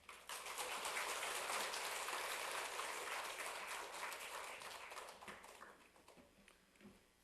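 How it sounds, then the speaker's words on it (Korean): A church congregation applauds to welcome an elder to the front, a dense, soft patter of many hands clapping for several seconds before gradually thinning and fading out. "청령호 장로님 나오실 때 박수로 환영해 주시기 바랍니다"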